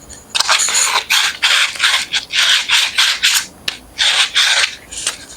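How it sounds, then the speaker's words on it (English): Sandpaper rubs in repeated rhythmic strokes against the frayed end of a skateboard push pole, a close, scratchy back-and-forth scraping. "So, fray on the end, again, we're going to just sand that off."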